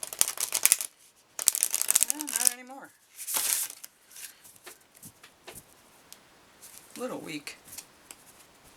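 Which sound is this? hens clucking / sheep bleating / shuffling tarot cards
shuffling tarot cards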